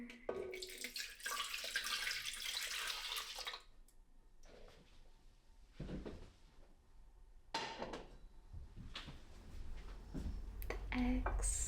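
Milk pours into a mixing bowl for cinnamon roll dough, a steady broadband liquid rush lasting several seconds up close, followed by quieter clinks and brief splashy bursts of kitchen handling.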